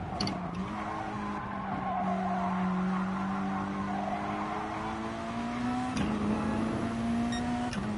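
Race car tyres skid and squeal from understeer at the Nürburgring Nordschleife in a racing game, a sustained tonal screech over a steady engine drone that wavers in pitch and flares again near the end.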